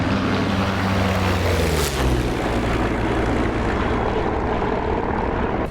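Bomber aircraft engine in DCS, a combat flight simulator, droning steadily and loudly throughout with a constant low rumble, no voices present.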